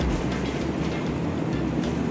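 Taksaka executive train waiting to depart Gambir station, a steady low rumble with a faint mechanical hum filling the carriage, continuous and even throughout.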